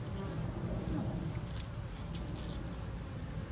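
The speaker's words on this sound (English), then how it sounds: "let the bees crawl on it" Honey bees swarm close around a hive entrance while being winterized, their buzzing a dense, steady drone that holds without a break throughout.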